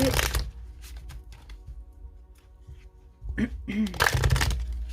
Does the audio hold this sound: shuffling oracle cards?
yes